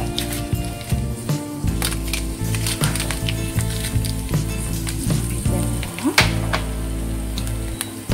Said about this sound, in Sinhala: දැන් අපි අපි මිරිස් ටික දාලා මේ ටික රැඳවල් පාට වෙනකම් බෙදගමු.